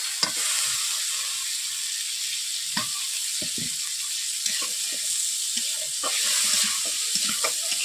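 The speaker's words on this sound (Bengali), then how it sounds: "প্রথমে আলু দিয়ে আমি এইভাবে আলুকে মশলার সঙ্গে কষিয়ে নিচ্ছি।" Cut potatoes frying with spices in a pan for a Bengali nona ruli fish curry, a continuous loud sizzle broken by repeated spatula scrapes and knocks against the pan.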